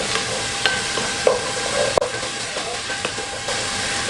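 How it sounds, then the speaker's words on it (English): Chopped garlic sautéing in a pan gives a continuous soft sizzle and hiss, with occasional small clicks and stirring taps, close by and without talk. "I'm going to add a little bit of the chopped garlic. And you saute it for another few minutes."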